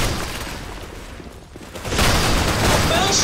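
Gunfire in the online shooter game Blackshot, a dense burst of shots that swells louder in the second half, with a voice talking underneath.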